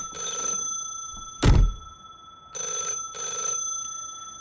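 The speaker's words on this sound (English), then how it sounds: "the phone rang" A telephone bell rings in a radio drama sound effect: three bursts of bright, steady ringing, broken by one loud thump partway through, with no talk.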